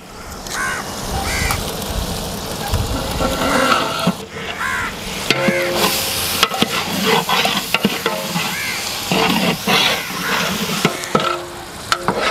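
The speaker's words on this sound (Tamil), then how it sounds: "1 கிலோ இஞ்சி, 1/2 கிலோ பூண்டு வாங்கி உரித்து அரைச்சி வச்சுருக்கோம், அதை ஆட் பண்ணிக்கலாங்க." Ginger garlic paste being stirred and fried in a large pot while cooking brinji rice, with a steady sizzle, scraping stirs and crows cawing in the background.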